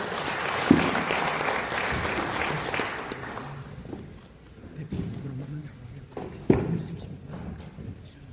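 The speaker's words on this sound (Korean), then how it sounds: "큰 박수로 맞이해 주십시오." Audience applause at a corporate CEO seminar in a hotel, a broad sustained wash of clapping for the first three seconds that fades out, followed by quieter room noise and a few isolated thumps.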